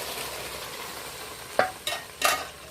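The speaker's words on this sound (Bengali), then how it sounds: "তো 2-3 বার এইভাবে একটু নাড়াচাড়া করে নেব" Cooked dal sizzles gently in ghee in a pan. Three quick scraping stir strokes follow one another near the end over the soft frying hiss.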